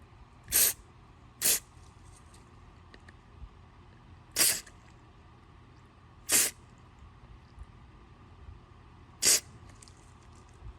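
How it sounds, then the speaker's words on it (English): Carburetor cleaner sprayed into a Briggs plastic-style lawn mower carburetor in five short sharp hissing bursts, spaced irregularly over a quiet background. "So now I'm going to take the carb cleaner,"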